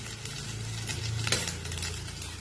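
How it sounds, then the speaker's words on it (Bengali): Rice with egg, turmeric and sugar is fried in a pan while being stirred. A soft, steady sizzle runs under light scraping and clinking of the spoon against the pan, briefly and without talk. "এই আবার কিছুটা ডিম দিয়ে দেবো,"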